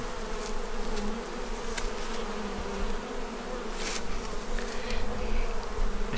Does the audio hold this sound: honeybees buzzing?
yes